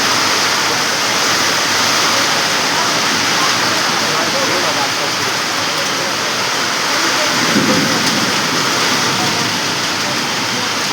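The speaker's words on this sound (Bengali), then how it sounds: "আজ কিন্তু খুব কড়া বৃষ্টি হচ্ছে, কড়া, সব ভিজে দিয়েছে আমাদের এখানে, কড়া বৃষ্টি" Heavy rain pours down in Garia, Kolkata, in a dense, constant hiss, with a brief low rumble partway through.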